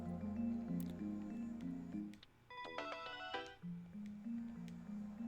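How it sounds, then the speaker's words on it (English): A phone ringtone from the video game Steins;Gate My Darling's Embrace plays a bright electronic melody of repeated tones, with a brief burst of higher chiming notes in the middle, heard alone and fairly quiet. "I think this is the ringtone I had in my game."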